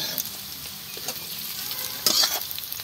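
Rupchanda pomfret fish frying in hot oil, a steady close sizzle with a few sharper crackles and bursts, no talking.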